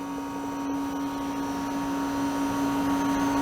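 A refrigeration compressor in a water ice machine, used for sugar-free cherry water ice, runs with a constant loud hum and a strong steady tone that continues without a break.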